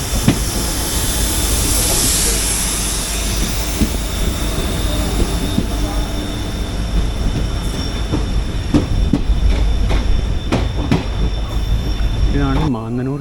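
The Nilambur Road–Palakkad passenger train rolls on rails near Mannanur station, a steady loud rumble with wheel clatter and squeal throughout, ending in a few sharp knocks.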